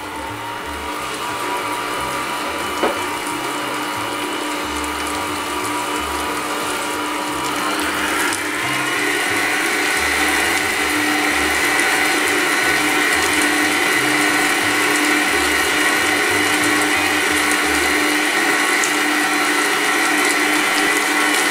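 An electric stand mixer beating eggs into tortelli dough runs steadily with a rattling, gear-like mechanical whir, loud and continuous, picking up slightly in intensity partway through.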